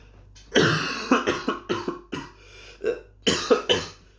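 A person fakes a coughing fit by voice, a run of about eight harsh, forced coughs in quick bursts, close and fairly loud, with no other speech.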